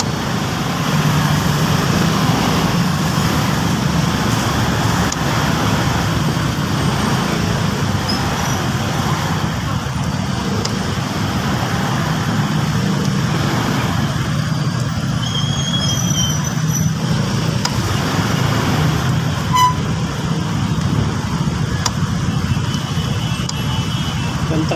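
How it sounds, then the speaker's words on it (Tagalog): Road traffic idles and rolls at a stoplight, a steady close rumble of engines and passing vehicles with someone talking over it throughout. "Yung traffic na to, kumbaga normal na lang to rito eh. Gawa ng stoplight."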